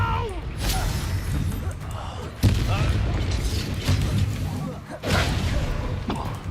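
Repeated Confringo spell blasts in a Harry Potter-style video game, booming explosions landing at intervals over a continuous rumble of game noise, with a player speaking over the action.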